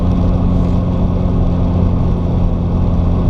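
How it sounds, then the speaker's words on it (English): A Subaru Forester car fitted with a CNT catback exhaust, Cobb downpipe and exhaust silencer drones steadily while driving around Juneau, a loud, even engine and road rumble from inside the cabin with no talk. "I'm also running with the exhaust silencer in right now."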